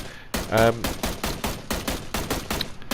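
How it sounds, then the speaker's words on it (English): M16 rifle on single fire in PUBG, a rapid string of about ten sharp gunshots in quick rhythm, close and loud, with a brief voice early on. "I've got the M16 on single fire with the 6x on."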